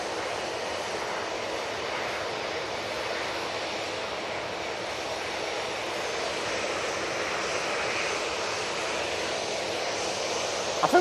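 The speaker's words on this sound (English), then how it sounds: "So we've got this 737-800. It's going off to Dubrovnik." A Boeing 737-800 departing Manchester Airport produces a broad, steady jet roar that holds evenly throughout, distant and continuous with no talk over it.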